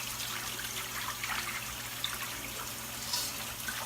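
Water poured into a pot while making beef pot roast, a steady soft splashing trickle heard close and fairly quiet, running continuously for a few seconds.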